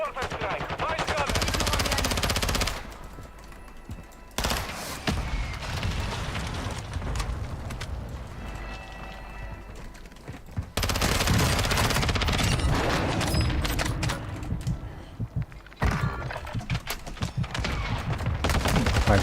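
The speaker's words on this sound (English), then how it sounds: "Hostiles launched a mortar strike. Find cover." Mortar strike and heavy gunfire in a first-person shooter video game: loud, dense bursts of firing and booms in long stretches, separated by quieter gaps, with occasional voices in the background.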